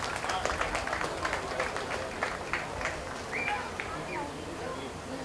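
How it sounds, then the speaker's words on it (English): A round of applause at a 4-H/FFA market beef show at the Greenup County Fair: scattered hand claps over a dense crowd wash, fairly steady throughout, with a few brief chirpy sounds in the background. "Please give each of these young ladies a round of applause"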